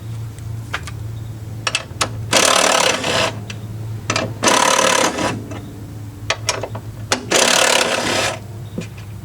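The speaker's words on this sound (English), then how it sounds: "I loosen the strut bolts at the top. I'm gonna undo that the rest of the way." Ratchet loosening the top strut mount bolts on a 1990s Volvo 850/S70/V70 front strut, giving bursts of rapid clicking interspersed with sharper metallic taps over a low steady hum.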